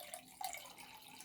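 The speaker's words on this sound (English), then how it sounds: "I'm going to pour you a glass of water" Water pours gently into a crystal glass during a soft ASMR session, a brief quiet trickle and splash with faint bright clinks.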